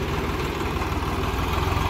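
A farm tractor engine runs steadily at idle, a constant low rumble with mechanical vibration and no gaps, loud and close, with no voices.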